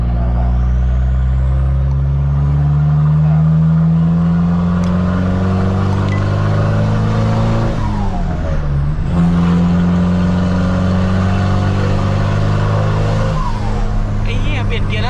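Turbocharged car engine revving hard through the gears, a loud steady drone rising in pitch, dipping briefly at a gear change, then climbing again with turbo whoosh.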